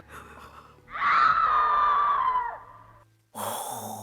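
Two women scream in a studio: a long, loud scream rising suddenly and holding for about two seconds, then a brief pause and another loud vocal burst.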